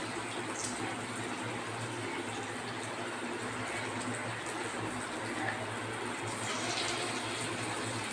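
Rasam vadas frying in hot refined oil give a faint, steady, even sizzle and crackle that carries on without a break and with no voices.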